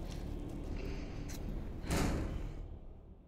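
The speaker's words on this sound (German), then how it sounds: "Tür zu." A door closing in the video game Resident Evil Village, a single muffled thud-like shut landing near the end amid a steady low game ambience, with no talk over it.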